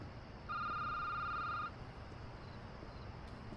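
A telephone rings in the video game Security Booth, one steady electronic ring of about a second over a low background hum, followed by quiet.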